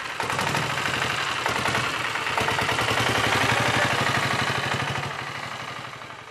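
Tractor engine running inside a tractor repair workshop, a steady, rhythmic mechanical chugging with a knocking pulse that stays loud and fades slightly near the end.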